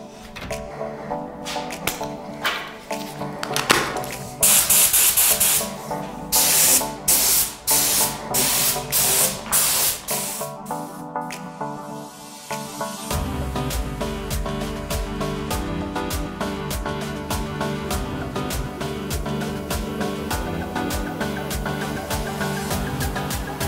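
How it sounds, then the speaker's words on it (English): Bursts of a cheap spray gun spraying primer in a paint booth, hissing in short pulses, then a long continuous spray over a droning compressor hum, loud and close. "I will try to apply primer with this cheap spray gun"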